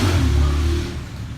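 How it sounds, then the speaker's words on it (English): A motorcycle engine revving nearby outdoors, heard while Mitsubishi VR4 headlights are being restored: a loud, steady, low droning growl that eases off slightly toward the end. "I guess he's testing his bike."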